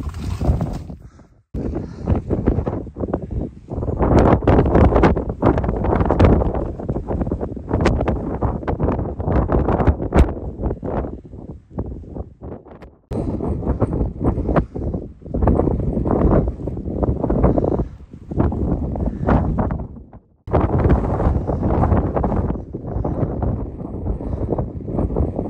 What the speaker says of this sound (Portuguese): Ouço o barulho do vento.